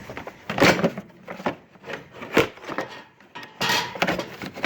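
A metal cover slides back onto a machine with repeated scraping and rubbing strokes, uneven grinding bursts and knocks over several seconds, close and fairly loud with no talk.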